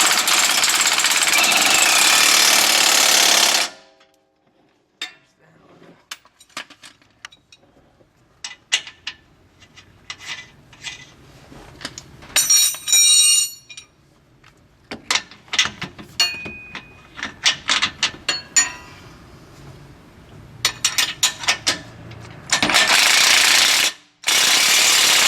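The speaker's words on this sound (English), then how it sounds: "go ahead and tighten this up" Nuts being tightened on a Jeep JK forged adjustable front trackbar with an air impact wrench, loud rattling bursts in irregular runs separated by short pauses, heard up close.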